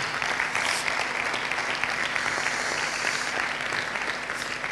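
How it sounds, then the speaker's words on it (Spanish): Sustained applause from a conference audience at a Spanish innovation event, steady and dense throughout with no gaps, many hands clapping at moderate distance. "Os pido un aplauso para ellos, por favor."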